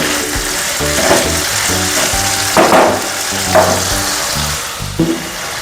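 Kajli fish chochchori, a traditional Bengali fish curry, stirred as it fries, giving a loud continuous sizzle broken by repeated scraping strokes of the spatula in the pan.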